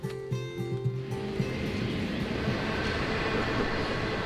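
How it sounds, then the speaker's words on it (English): A train passes on a railway right beside a campsite in mountain country, a loud, close, continuous rumble and rolling clatter that builds after a brief opening and holds steady throughout. "There's the train right there."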